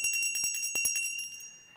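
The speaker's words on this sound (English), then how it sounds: "walk up and down the halls and ring the bell, which is where I get this bell from" A metal hand bell rings close by, a quick run of bright clanging strokes with long shimmering overtones that ring on and slowly fade as the shaking stops.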